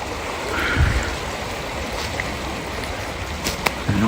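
A noisy river rushes in a steady broadband wash at night, with faint higher calls and a couple of brief ticks above the continuous flow.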